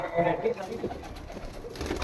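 Low, soft pigeon coos murmur close by, blended with background noise and muffled voices.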